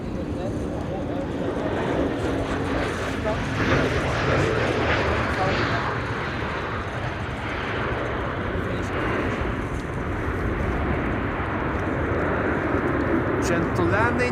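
EasyJet airliner landing at Amsterdam Schiphol on a windy day, a steady jet roar and rumble heard from the field with wind noise, while people talk over it throughout.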